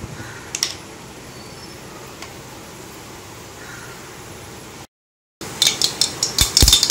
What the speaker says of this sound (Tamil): கடுகு நல்லா பொரிஞ்சிடுச்சு.